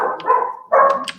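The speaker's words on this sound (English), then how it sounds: "Sorry about the dogs in the background." Several dogs barking and yipping somewhere behind a room where people are talking, coming in two short loud bursts with a brief lull between.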